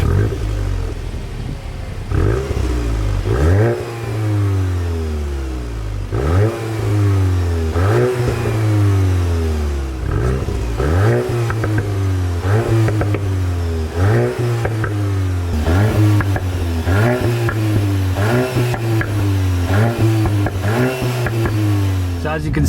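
A 2021 VW Golf Mk8 GTI revs repeatedly, each loud rise up to a soft limiter followed by a drop back down, about a dozen blips in steady succession, close and prominent.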